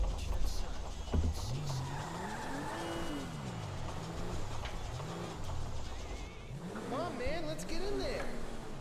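A car in the video game GTA V drives and skids, its tyres squealing in rising and falling sweeps over a steady engine rumble, with a voice talking in the background.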